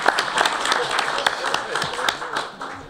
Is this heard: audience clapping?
yes